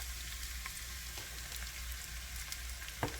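Diced onion, one small one, sizzling in olive or avocado oil while a creamy zucchini soup is made, giving a steady soft hiss with a few faint clicks and one brief louder crackle near the end, no talking.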